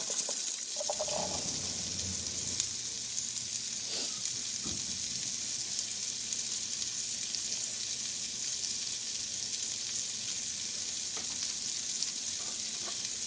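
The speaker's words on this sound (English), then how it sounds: "Alright, so I've got about 2 tablespoons of butter in this pan. And now I'm going to be dumping in some of our onions." Diced onions hit about two tablespoons of butter in a pan and sizzle steadily, a continuous bright crackling hiss with a few soft clinks, running alone without talk.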